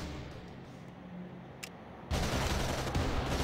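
Gunfire in a mobile sniper game, a sudden dense burst of rapid shots breaking in loud after a quiet stretch with a faint low hum.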